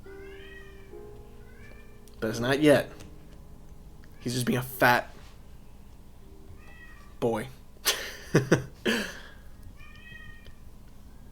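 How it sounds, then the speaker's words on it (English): A pet cat meows repeatedly before dinner time, faint plaintive calls between bursts of someone talking nearby. "I don't know if you guys can hear the cat meowing,"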